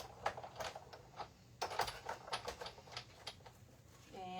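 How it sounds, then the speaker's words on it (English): A hand-cranked die-cutting machine runs back and forth, giving quiet, irregular clicking and clacking bursts close by, with faint talk in the background. "And we're gonna die cut. Going back and forth."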